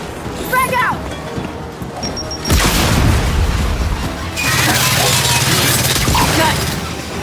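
Frag grenade explodes in Gears 5 with a sudden loud boom, followed by a long, rumbling roar of debris and gunfire amid a loud, chaotic battle.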